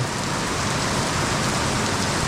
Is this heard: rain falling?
yes